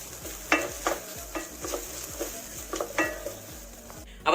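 Browned onions and a spoonful of Kashmiri chili powder for pork vindaloo are stirred in a pan, a spoon scraping and clinking against the metal in an irregular rhythm over a faint sizzle, close by with no talking.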